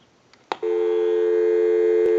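A Western Electric 202 rotary desk telephone line gives a click, then a loud steady busy tone that holds on close up, with another click near the end.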